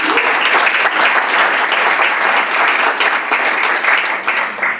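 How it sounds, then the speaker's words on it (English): Loud, continuous applause from a lecture audience at a university urban planning event, a thick wash of many hands clapping together without pause for the whole stretch. "So a round of applause"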